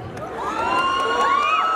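Crowd at a Nepali festival event cheering and shouting, with children's high whoops rising and falling over a continuous roar, loud and close.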